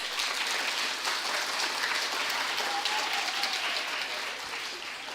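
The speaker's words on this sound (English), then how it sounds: "clap him better than that" A lecture audience claps harder for a young primary-school boy, a dense, sustained roar of applause that fills the room and eases slightly toward the end.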